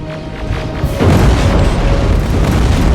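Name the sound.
incoming rockets exploding in the video game Terminator: Resistance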